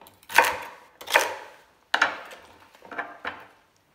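Onion and celery for a seafood soup broth are chopped on a board in a galley kitchen, five sharp knife strikes landing close and loud, spaced irregularly with brief pauses.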